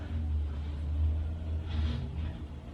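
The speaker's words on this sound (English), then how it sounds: "I'm so sorry for the noise. There's a garbage truck outside." A garbage truck idles outside, heard indoors as a low, steady engine rumble with a slight swell, moderately loud and continuous with no talking.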